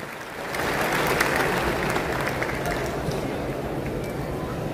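Audience applause at an RCM event as a speaker is welcomed to the stage, a dense sustained clapping from a large crowd that swells after a moment and holds steady.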